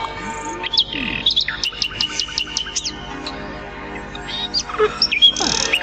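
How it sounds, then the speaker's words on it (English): A nightingale sings close by in a run of bright, quick chirps and trills, with short pauses between phrases and a louder burst at the end. "the emperor was woken by the bird singing his beautiful song"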